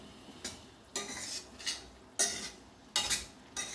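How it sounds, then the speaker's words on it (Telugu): A spoon stirs cabbage and moong dal curry with coconut in a pan, making several scraping, clattering strokes at an uneven rhythm over a soft background sizzle. "ఒక 5 నిమిషాలు ఒకసారి మధ్యలో కలుపుదాము."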